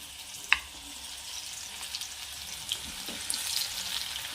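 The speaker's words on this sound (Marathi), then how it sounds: "एक मोठा कांदा असा बारीक कट करून आहे ॲड करून देते मी" Finely chopped onion frying in a hot pan, giving a steady close sizzle throughout with a sharp crackle near the start and a few small pops and spatters later, no voices.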